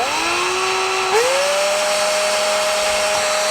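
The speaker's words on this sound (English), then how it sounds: "drill the tie right here" An electric drill with a 3/32 bit bores into a wooden model railroad track tie, giving a steady high whine whose pitch rises and then holds as the bit spins up, close and alone.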